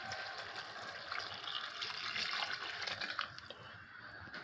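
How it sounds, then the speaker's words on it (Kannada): Water poured from a jug into a pot of sambar, a continuous soft splashing fill that swells in the middle and tapers off near the end, fairly quiet with no talking. "ಮತ್ತು ಅಷ್ಟಕ್ಕೆ ಇಷ್ಟು ನೀರು ಹಾಕ್ತಾಯಿದ್ದೀನಿ ನೋಡಿ."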